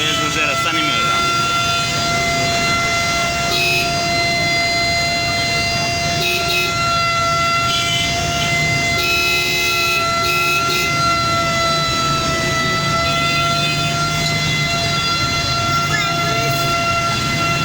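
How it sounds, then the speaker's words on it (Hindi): An ambulance siren stuck in rush-hour traffic at a commercial market in Rawalpindi wails steadily and without pause, close and loud above a constant wash of street noise. "पीछे एम्बुलेंस है और ये रश की वजह से रास्ता नहीं मिल रहा।"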